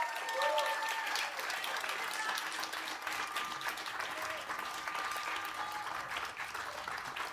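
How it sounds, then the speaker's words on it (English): Steady applause from a festival audience at a live metal interview, a dense, even wash of many hands clapping at a distance, sustained throughout with faint crowd murmur. "Give it up. Come on, some applause."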